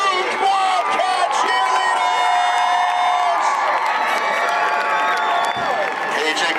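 A large crowd cheers, whoops and applauds for the Milton High School cheer team at a varsity high school football game, a loud, sustained roar of voices with a public-address announcer speaking over it.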